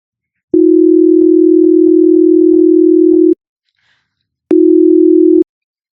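A loud synthesized tone made by summing 360 Hz and 320 Hz sine waves plays for about three seconds, stops for a second of silence, then returns in a shorter one-second burst.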